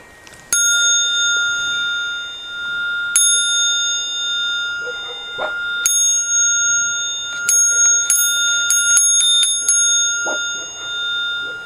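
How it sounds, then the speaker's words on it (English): A bright metallic meditation bell strikes at spaced intervals that quicken into a rapid cluster, each ring sustaining a clear, long-ringing tone. "A ring down is a series of bells that start slowly, increase in time"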